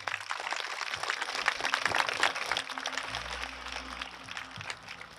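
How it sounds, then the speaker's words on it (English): Audience applause at a Christopher Columbus celebration honouring an essay contest winner: a steady, dense wash of clapping from a sizeable crowd that holds evenly throughout, with no voices standing out. "I think we all owe him a big round of applause."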